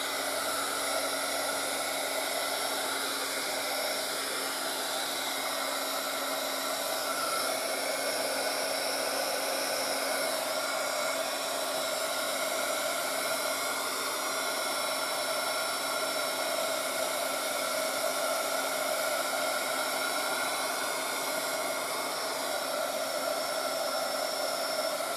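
Hair dryer blowing steadily on a small watercolor painting, a loud continuous whir with a constant motor hum that holds unbroken for the whole stretch.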